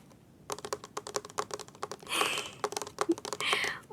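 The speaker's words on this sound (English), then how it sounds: "Tapping on your silver play button." Fingernails tap rapidly and softly on a YouTube silver play button award, crisp close clicks in quick bursts with brief pauses, quiet and intimate, in a whispery ASMR setting.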